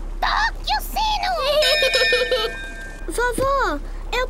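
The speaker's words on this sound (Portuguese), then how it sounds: "Peppa, toque o sino!" A ship's bell rings in a Peppa Pig cartoon, several bright sustained chimes in the middle of the clip, with children's cartoon voices talking before and after.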